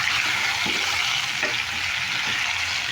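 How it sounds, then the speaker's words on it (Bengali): Vegetables sizzle steadily in hot oil in a pan, a close, even frying hiss with a few soft scrapes as pieces are turned. "এই সবজিটাও ভাজা হয়ে গেছে এবারে একটু উল্টে পালতে লাল করে ভেজে নিই"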